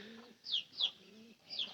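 A pair of pet pigeons in their loft coo softly, giving three short, faint, rounded calls spaced evenly, with a quiet background.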